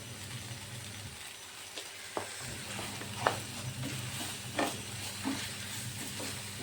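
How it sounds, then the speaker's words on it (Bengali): Spices including turmeric and Kashmiri chili powder are stir-fried in oil for a soybean kofta curry, giving a soft steady sizzle punctuated by several sharp spatula scrapes and taps, fairly quiet and close. "এখন আমি মশলাগুলোকে একটু ভালো করে কষিয়ে নেব"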